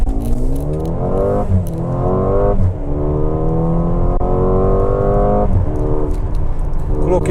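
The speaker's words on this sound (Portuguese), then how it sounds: "É impressionante como ele acelera rápido" Mercedes-AMG GLA 35 compact SUV, 306 hp with an eight-speed dual-clutch gearbox, accelerating hard in Sport Plus mode: loud rising engine note broken by three quick upshifts, each snapping the pitch down before it climbs again.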